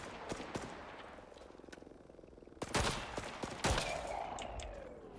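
Video-game gunfire in Icarus, aimed at an animal during a hunt: a few sharp, moderately loud shots separated by pauses, with two heavier blasts near the middle and a short burst after them.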